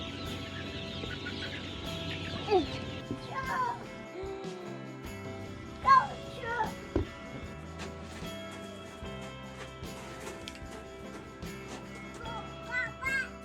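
Chickens cluck in repeated bursts on Joel Salatin's Polyface Farm, amid a busy outdoor mix of other farm noise, with a few louder calls standing out and a voice faintly present.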